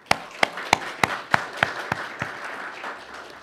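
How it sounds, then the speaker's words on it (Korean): A church congregation claps in worship, a run of about eight distinct, fairly loud claps in a steady rhythm that fades into a softer scattered patter toward the end, with no talking over it. "하나님께 크게 한번 박수 한 번 치겠습니다"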